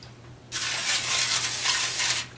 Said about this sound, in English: we're just going to give this pan a little bit of spray